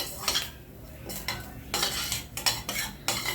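Fine semolina is dry-roasted in a pan and stirred with a metal spoon, giving repeated scraping strokes that come in uneven bursts over a soft background, close and moderately loud, with no speech.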